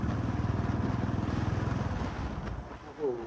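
A motorbike engine throbs in rapid pulses as the rider goes along, mixed with wind buffeting the microphone, then the engine note eases and fades slightly near the end.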